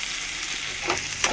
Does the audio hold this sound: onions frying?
yes